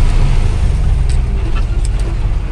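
Cars and other vehicles idle and creep along in a dense road traffic jam on the way to Nasik, a steady low engine rumble close by with brief faint horn-like tones over it.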